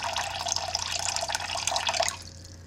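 Cold water, 340 grams, pours steadily into a bowl for bread dough, a close continuous splashing rush that cuts off sharply near the end, leaving a low background hum.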